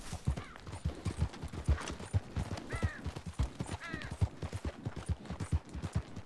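A horse gallops in Red Dead Redemption 2, with rhythmic hoof beats running throughout at moderate level and brief vocal sounds over them.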